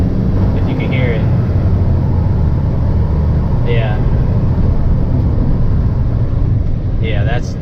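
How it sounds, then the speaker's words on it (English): A loud idling truck engine with a faulty belt rumbles steadily, with a recurring high-pitched belt squeal every few seconds. "This truck is having a belt issue"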